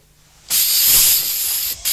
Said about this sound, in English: It's fly spray.